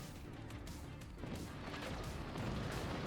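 Cannon fire in the game Forts, a dense run of booming blasts and crashes that grows slightly louder toward the end, with no voices over it.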